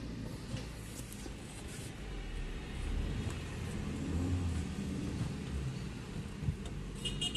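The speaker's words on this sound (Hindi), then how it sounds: "लग रही है ये बैक कर रहा है गाड़ी।" A car backing up gives a low, steady engine rumble, fairly close, that swells slightly in the middle and then settles, with no voices.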